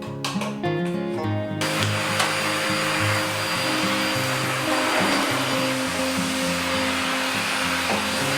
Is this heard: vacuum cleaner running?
yes